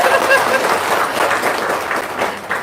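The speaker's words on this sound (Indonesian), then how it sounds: "Tepuk tangan nih dong." An audience at a talk or testimony gathering applauds steadily for the whole stretch, a dense wash of clapping with a few brief voices mixed in.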